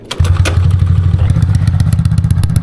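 A motorcycle engine starts and settles into a steady, low idle close by, with rapid even pulsing and scattered metallic clicks and taps over the top.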